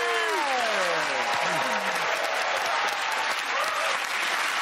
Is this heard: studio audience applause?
yes